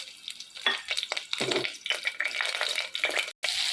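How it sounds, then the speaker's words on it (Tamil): Bay leaf, cinnamon, cardamom, cloves and stone flower frying in hot oil for a Kumbakonam kadappa tempering, a crackling sizzle with a few stirring scrapes and a brief cut near the end. "பிரியாணி இலை, பட்டை, ஏலக்காய், கிராம்பு, கல்பாசி எல்லாத்தையும் போட்டுக்கலாம்."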